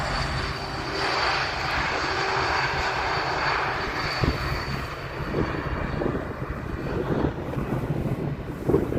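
Airbus A380 airliner engines roaring steadily as it passes on arrival at Amsterdam Schiphol's Polderbaan runway, a loud sustained broadband rumble holding for the whole stretch with no voices.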